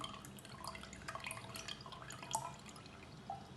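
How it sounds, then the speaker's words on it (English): Liquid being poured into bottles for homemade yogurt, a steady soft trickle with small drips and splashes, close and fairly quiet. "So what you do is that pour in the remaining."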